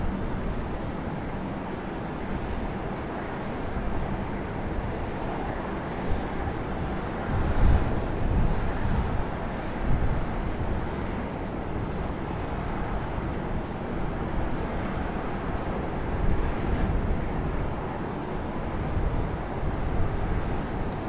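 A JetBlue airliner lands at Raleigh Durham International Airport, with a broad, steady roar of engines and rushing air that swells slightly now and then and holds at a constant distance throughout.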